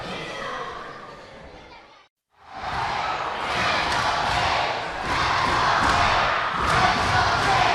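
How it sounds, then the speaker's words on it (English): A wrestling arena crowd roars loudly and steadily after a brief drop to silence, a dense wash of voices that may carry a chant, with a commentator's voice likely mixed in. "The crowd is chanting"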